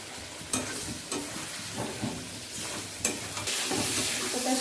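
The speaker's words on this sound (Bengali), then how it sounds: "আলু মশলাটা বেশ ভাজা ভাজা হয়ে গেছে" Potatoes and spice paste fry in hot oil, sizzling steadily while a utensil stirs them with several distinct scraping strokes against the pan, close and with no talking.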